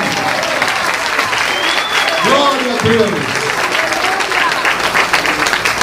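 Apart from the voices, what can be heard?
audience applauding at a church talk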